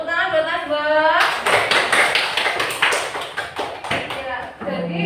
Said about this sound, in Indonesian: tepuk tangan buat Najwa.